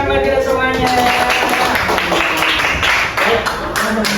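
A classroom group claps hands together in quick, fairly rhythmic bursts, loud and close, with voices talking over the clapping.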